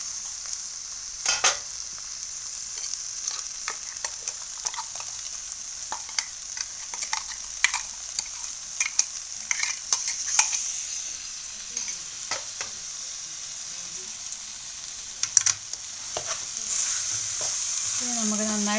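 Vegetables mixed with ground coconut for koottu curry are stirred in a pan, with a steady sizzle and repeated scraping and tapping of a spoon against the pan, close and clear, without talk.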